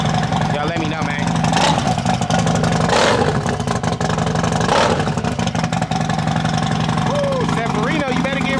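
A cammed Harley motorcycle engine rumbles in a loud, lumpy idle with several throttle blips and rising revs, while voices talk over it nearby.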